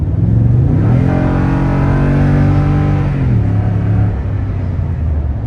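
A Toyota Tundra TRD truck engine fitted with an airflow accelerator revs up and holds a steady roaring pitch through its exhaust, then drops back down; loud and close, no talking.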